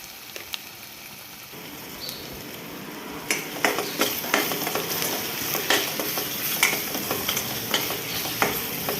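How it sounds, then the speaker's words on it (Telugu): Chili powder and salt being stirred into a sizzling masala egg curry in a pan: steady frying hiss with rhythmic scraping and clinking of a spoon that starts a few seconds in and keeps going, close. "రుచికి సరిపడినంత కారం, ఉప్పు వేసేసుకొని ఒకసారి కలుపుకుందాం."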